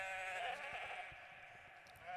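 Sheep bleat in a sustained, wavering cry that carries throughout, a flock grazing on open pasture near sunset, fairly loud and close with no talking.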